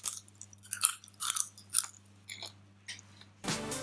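Chocolate lollipops topped with Peta Zetas popping candy crackle in a string of sharp, close, fizzy bursts, then a louder, denser crackle near the end. No one speaks.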